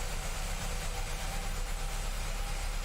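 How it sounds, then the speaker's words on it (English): Engines of a Boeing 737-700 in Microsoft Flight Simulator give a steady, unbroken roar with a low hum underneath, with no talk over it. "the engine noises are phenomenal"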